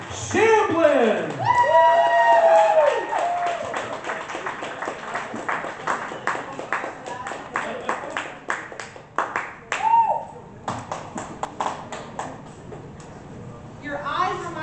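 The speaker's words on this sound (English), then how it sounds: "Give him a round of applause. Keep the applause going" Audience applause at a poetry slam: dense clapping fills the room for several seconds, swelling and thinning, with voices and a short shout mixed in before it fades into talk.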